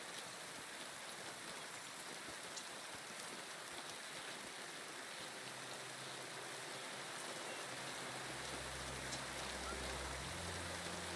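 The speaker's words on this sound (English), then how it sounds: "Out here getting rained on." Steady, dense rain in Kingdom Come: Deliverance II hissing continuously across the whole clip, with a low droning hum rising near the end; no talking.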